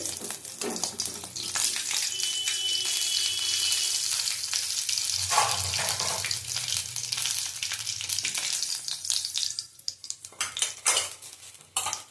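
Food fries in a pan in a home kitchen, a continuous crackling sizzle with metal utensil clinks and scrapes of stirring, easing off toward the end into quieter clatter.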